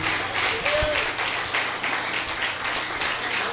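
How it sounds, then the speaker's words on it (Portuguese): A church congregation applauds, a steady wash of many clapping hands under a brief voice. "Gostaria que você aplaudisse ao Senhor pela vida do pastor Edinaldo"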